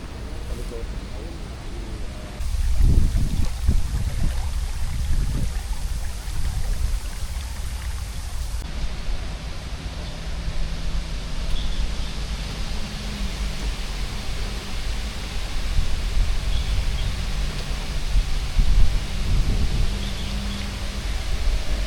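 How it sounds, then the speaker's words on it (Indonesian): Floodwater flows steadily through an industrial estate in West Karawang, Indonesia, with no rain falling. A constant broad rushing wash continues throughout, while someone talks over it at times. "ini tidak hujan ya, air tetap mengalir"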